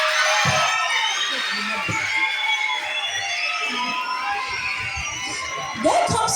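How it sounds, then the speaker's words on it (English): A live audience at a reading competition grand finale welcomes a contestant with crowd noise and cheering, loud and sustained throughout, with a brief louder burst near the end. "Let's give a round of applause to El Kabela Boache"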